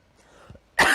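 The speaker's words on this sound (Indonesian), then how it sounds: "Maaf ya, minta izin untuk batuk." A single adult cough in an indoor talk setting: a faint throat rasp, then one loud, sharp cough bursting out at the end, close to the microphone.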